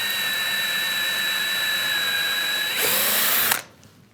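A 3 mm bit drills a hole through a block held firm on a bench for a router plane kit, giving a steady high-pitched power drill whine that climbs in pitch near the end and then stops abruptly.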